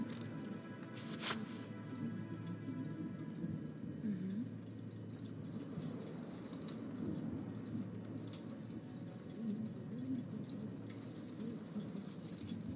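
In the video game Twelve Minutes, a storm sends steady rain down without a break, with low rumbles and one sharp crack partway through, all heard indoors at a moderate, muffled level.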